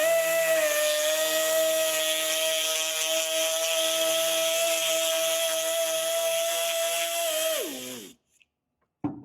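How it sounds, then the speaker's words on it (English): Continuous high whine of a rotary tool spinning a slit steel rod holding sandpaper to deburr the inside wall of a metal casting, steady and close for about eight seconds before winding down and stopping. "Use a steel rod with a slit cut in one end. Slide a piece of sandpaper in it and deburr the inside wall of the casting as shown."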